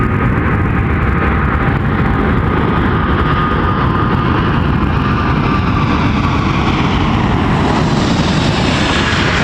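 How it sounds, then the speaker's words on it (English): An Airbus 319 taking off at Toronto Pearson Airport, its loud jet engine roar filling the whole stretch and rising steadily in pitch toward the end, with no talking over it. "Airbus 319 rolling out"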